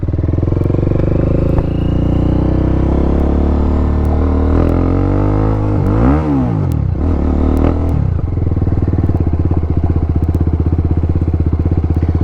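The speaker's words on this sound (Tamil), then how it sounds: "ஸோ எக்ஸாஸ்ட் மாற்றிருக்காங்க, சவுண்ட் ஃபீல் பண்ணலாங்கிறதுக்காக தான்" A loud TVS Apache RR310 motorcycle with a throaty aftermarket exhaust idles, then revs up and down repeatedly, close by and continuous throughout.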